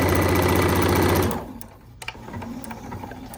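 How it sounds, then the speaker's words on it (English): Sewing machine stitching the lining of a zipper pouch, running steadily and loud for just over a second, then stopping, leaving faint handling clicks and fabric rustle. "So I just stitch right off the fabric."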